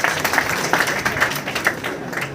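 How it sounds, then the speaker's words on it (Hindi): Audience at a college freshers party claps together, a moderate, slightly uneven patter of hands lasting a couple of seconds without speech. "एक जोरदार ताली होनी चाहिए"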